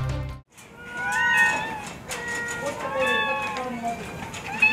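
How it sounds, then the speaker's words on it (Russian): Several cats at a homeless animal shelter meow loudly and repeatedly, their rising and falling cries overlapping close by, with a low rumble at the very start. "Громким мяуканьем встречают нашу съемочную группу в приюте бездомных животных"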